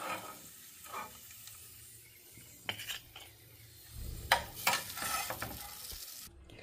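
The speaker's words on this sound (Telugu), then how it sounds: "ఇప్పుడు మనం కిస్మిస్, జీడిపప్పు ఫ్రై చేసుకుందాము." Raisins and cashews frying in a pan, a close sizzle with repeated scraping stirs of a utensil against the pan, growing busier and louder toward the end, with no talk.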